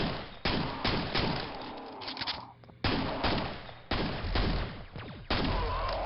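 Gunfire in the Quake Brutalist Jam 3 video game: four loud, heavy gun blasts at irregular intervals, each followed by a long rumbling decay, with no talking.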